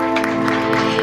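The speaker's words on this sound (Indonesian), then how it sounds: "Berikan tepuk tangan lebih meriah lagi untuk memuliakan Tuhan." A church congregation in Batam applauds during a worship service, with rhythmic clapping bursts over sustained music tones that fill the space loudly.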